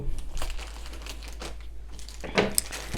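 Crinkling and tearing of plastic packaging while opening a craft kit by hand, close and fairly quiet, with a louder rip near the end.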